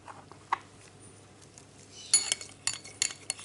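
A spoon scrapes and clinks against a bowl while grilling ingredients are mixed with salt and cheese, a few sparse taps at first, then a cluster of sharp metallic clinks and stirring knocks, close and without talk.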